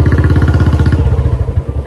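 A Royal Enfield Bullet motorcycle with a loud aftermarket exhaust idles close by, giving a steady, heavy thumping beat that loosens slightly toward the end.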